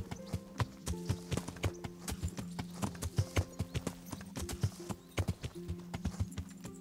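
In the game Kingdom Come: Deliverance, a horse's hooves clip-clop in a quick, steady rhythm. The hoofbeats are close, clear and dense, with no talk over them.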